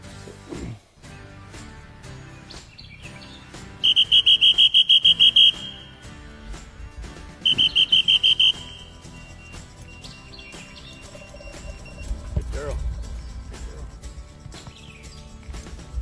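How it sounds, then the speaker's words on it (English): Two bursts of a shrill trilling whistle, used in dog training, cut through outdoor background noise. The first burst lasts about a second and a half and the second about a second. "The whistle just says, come to where I'm at."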